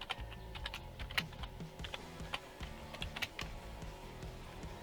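Arduino code is entered on a computer keyboard, with fast, uneven clicks and clacks of keys pressed close by and occasional louder strokes. No one speaks.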